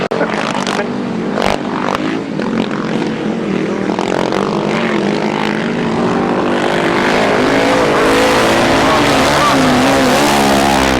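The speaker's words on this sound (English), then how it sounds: "The engine seems to be revving well, but doesn't go anywhere." A grasstrack racing motorcycle engine revs hard at a race meeting, loud and sustained with rising and falling pitch, over a busy background of other bikes and a faint voice.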